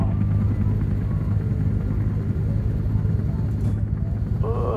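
A helicopter flies in the video game ARMA 3, giving a loud, constant low rotor and engine rumble throughout, with a brief sharper sound near the end.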